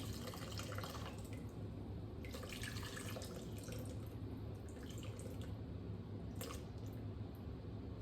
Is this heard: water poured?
yes